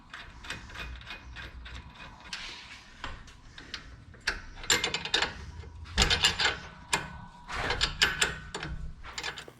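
A 3/4 nut threaded on by hand during a Jeep Renegade lift install, heard as rapid metallic clicks and ratcheting ticks in irregular bursts, close up and fairly quiet.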